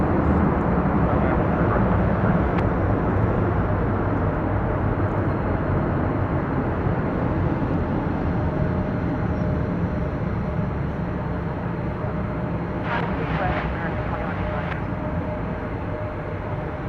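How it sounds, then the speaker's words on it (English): American Airlines passenger jet at DFW Airport, a loud continuous engine roar that holds steady and eases slightly toward the end. "That plane was American Flight 1828. It's going to Fresno, California."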